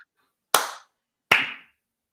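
People watching an AFC Bournemouth versus Coventry City match clap in rhythm, giving two sharp, loud, close claps about 0.8 seconds apart, each with a short room ring after it.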